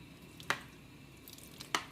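Water sprinkled by hand onto drained, cooked ground turkey, giving two short, soft wet splashes or drips about a second apart, quiet and close with no talk.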